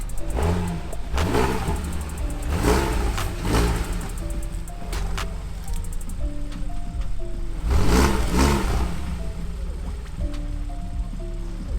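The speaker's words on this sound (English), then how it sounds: "I heard Boogeyman coming from all the way around the corner" A loud car approaches from around a corner, its engine rumbling and surging in repeated bursts of revving, the sound growing and fading over several seconds.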